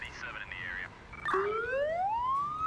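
Ambulance siren in the Emergency 4 firefighting video game, a wailing electronic tone that sweeps and then rises steadily, fairly close and prominent, with brief chirps before it.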